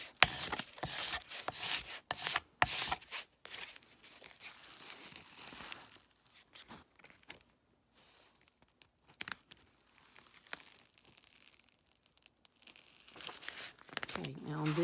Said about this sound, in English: Might have to rub it with a credit card.